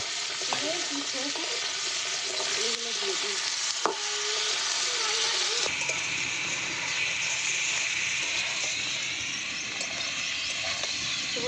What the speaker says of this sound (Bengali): মাছগুলো আমার এখন কষা হচ্ছে প্রায় হয়ে গেছে